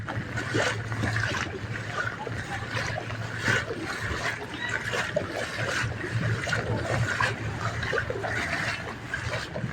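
Water splashes and churns steadily as a vehicle moves through shallow floodwater during a typhoon, a continuous close wash of spray with a low engine hum beneath it.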